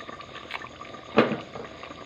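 Rice boiling in a rice cooker, a soft bubbling hiss with a louder gurgling burst midway, close and without talking.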